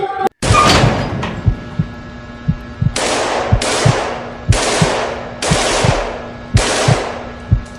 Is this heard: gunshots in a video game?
yes